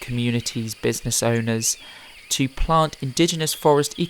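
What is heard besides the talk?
None of the usual background noises is heard.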